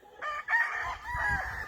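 A nearby Kelso rooster on an Oklahoma farm lets out one short, harsh crow, with low rustling and clucks underneath.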